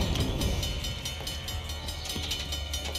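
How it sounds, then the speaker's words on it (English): A train rumbles along rails in the video game Uncharted: The Lost Legacy, a steady, dense mechanical roar with rhythmic clatter filling the whole stretch, no voices over it. "Train's getting closer."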